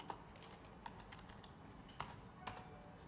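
Quiet, close typing on a computer keyboard, a quick run of irregular key taps with a few sharper clicks, heard alone.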